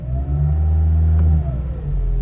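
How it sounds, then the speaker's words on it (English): A car engine revs up as the gas pedal is pressed, the pitch rising smoothly and then falling back toward idle in a loud, close, steady roar. "Let's try pressing gas pedal."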